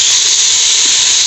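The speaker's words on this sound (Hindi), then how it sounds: "ये लहसुन अदरक के साथ इसको हल्का सा फ्राई करेंगे" Garlic ginger paste fries hard with meat in a hot pan, a loud continuous close hiss of high steamy sizzle without pause.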